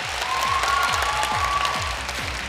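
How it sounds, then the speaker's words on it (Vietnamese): Audience at a Vietnamese radio and television singing contest final claps steadily in sustained applause, loud and close, with a faint tone held underneath. "Một tràng vỗ tay để chúng ta giải tỏa không khí rất căng thẳng của các bạn thí sinh được không ạ?"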